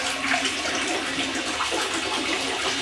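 Water gurgles and swirls steadily as a bathtub drains, a close, continuous sloshing rush without any voices.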